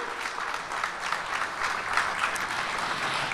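An audience at the Armed Forces Day ceremony in South Korea applauds a combined military-civilian taekwondo demonstration team. The applause is steady and fairly distant, a sustained wash of many hands clapping with no voices above it.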